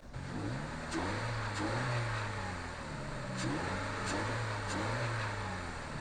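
A Toyota GR86/BRZ fitted with a closed-box cold air intake revs up and down several times, a rising and falling mid-pitched engine note heard from close by and somewhat muffled.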